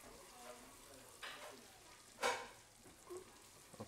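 Chorizo cooking in a pan gives a faint, quiet sizzle, with a few brief, louder spatters and stirring bursts rising out of the soft crackle.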